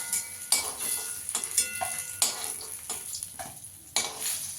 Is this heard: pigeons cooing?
no